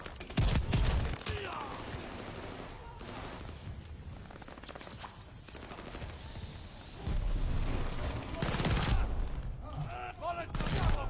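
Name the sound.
gunfire in video game Call of Duty: Vanguard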